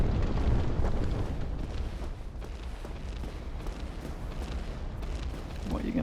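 Flaming boulders hurled by a giant during a Dark Souls boss fight, heard as a continuous heavy rumble of crashing impacts and fiery bursts, dense and loud throughout with no clear breaks.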